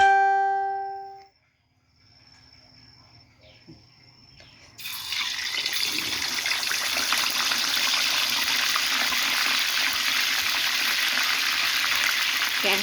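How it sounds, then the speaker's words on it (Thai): After a fading chime and a quiet lull, salted fish drops into hot oil in a pan at a home kitchen. It sets off a loud, steady crackling sizzle that continues close up without any talking. "ทอดปลาปลาเค็มใหม่ มันทอดยากเนาะ"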